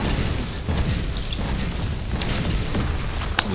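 Cannon fire in Skylanders: Spyro's Adventure on a pirate seas level, a dense rumbling barrage of booms with a sharp blast near the end, loud and continuous throughout.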